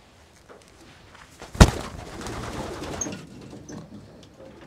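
Pigeons coo inside a white racing-pigeon loft in Belgium, a sharp knock followed by a soft continuous cooing and wing rustle at close range, with no talking.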